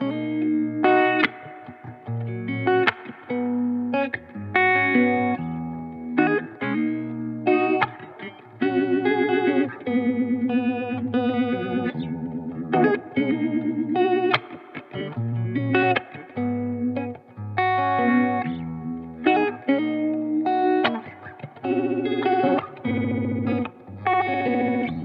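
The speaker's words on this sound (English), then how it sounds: "And sometimes you want a smooth, flowy phaser. Sometimes you just want to chop stuff up" Phaser sweeps and choppy, gated bursts from an effects unit processing a tonal sound, loud and continuous with rhythmic on-off stutters and warbling, chorus-like modulation, no voices.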